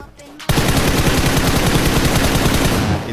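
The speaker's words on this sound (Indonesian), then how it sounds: "ketika gue lagi nembak, sambil nembak nih" Loud, sustained rapid-fire automatic gunfire from a mobile shooter game during close combat, starting abruptly after a brief quiet moment and continuing steadily to the end.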